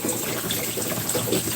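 Cold water running from a tap into a pot of eggs in a kitchen, a steady close hiss and splash with no break and no talking.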